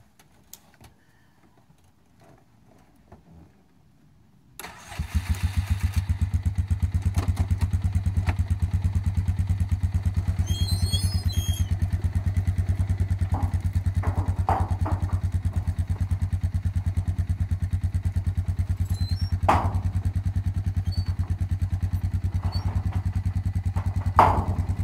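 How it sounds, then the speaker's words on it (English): An ATV engine cranks and catches about five seconds in after near silence, then settles into a loud steady idle with a throbbing, clattering rumble. Faint knocks and clanks sound over the engine. "If all else fails, get the ATV"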